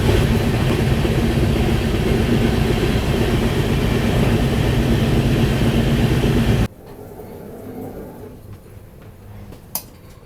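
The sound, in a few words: Jammu Tawi Express train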